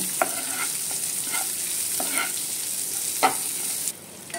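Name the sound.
sliced onions frying in oil until reddish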